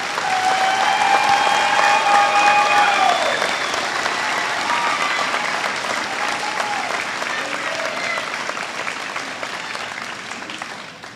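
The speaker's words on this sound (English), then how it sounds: "Please give these students a round of applause." Sustained applause from a large crowd at a high school graduation ceremony, loud and steady, with a few voices audible at the start before the clapping fades slightly toward the end.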